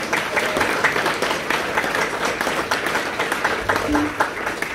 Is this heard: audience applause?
yes